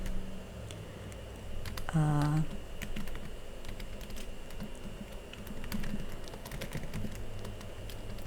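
Fingers type steadily on a computer keyboard while text is entered into a Canva design, quick light clicks running throughout at moderate level, with a brief low tone near the start.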